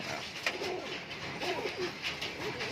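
High flyer pigeons in a loft give soft, repeated rolling coos, several overlapping calls at close range against a steady background hum, with no talking.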